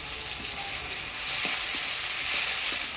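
Ground coriander, cumin and ginger paste fries in a pan, a dense continuous sizzle with faint, regular stirring scrapes underneath.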